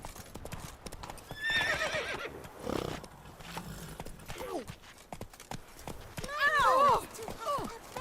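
A horse in The Witcher 3 whinnies twice and its hooves clip-clop steadily, with a rider's voice calling out around the animal sounds.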